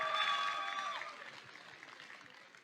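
Audience clapping at a robotics tournament, a dense burst of applause loudest at the start and gradually thinning. A faint tonal hum sits under it early on.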